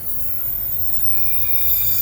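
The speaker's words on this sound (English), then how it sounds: "there it comes, Northern Rail" A Northern Rail train arriving at a station at Rainford, a steady low rumble with faint high-pitched wheel squeal running throughout, growing slightly louder toward the end, no talk.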